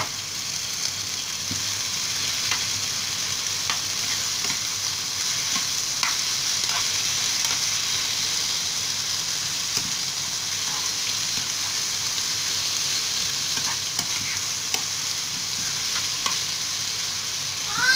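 Tomatoes and peppers fry in a pan as spinach with eggs is being cooked, giving a steady close sizzle with faint scattered crackles throughout and no talk.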